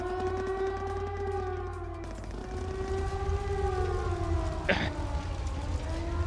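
Factory air-raid siren in the video game Trails of Cold Steel, a loud wailing drone that dips and rises again, with a brief sharp noise burst near the end and no talking.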